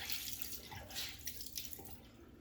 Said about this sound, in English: So I'm rinsing the washcloth in the straight cold water out of the tap.